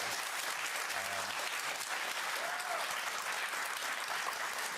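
Steady, dense applause from a large audience, continuous and loud throughout with no pauses.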